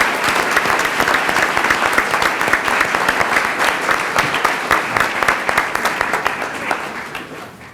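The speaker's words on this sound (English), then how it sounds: "And a round of applause, please, for Ridge Middle School." Board of Education audience applauding Ridge Middle School, a dense and steady wash of many hands clapping at close range that tapers slightly toward the end.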